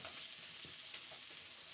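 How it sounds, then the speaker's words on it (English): Zucchini searing in a frying pan gives a faint, steady, close-up sizzle with no break for its brief length. "So you want to get a nice sear on one side of this zucchini."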